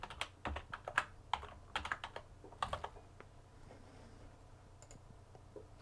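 Someone types an account name on the keyboard of a Lenovo V530-22ICB all-in-one computer, producing a quick run of soft key clicks that fades into a few scattered taps in a quiet room.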